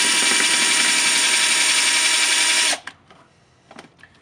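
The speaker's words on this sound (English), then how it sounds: "That solution is power tools." A power drill whines at high speed into a plastic toy boat, a loud steady buzz that cuts off abruptly partway through, followed by a few quiet clicks and handling sounds.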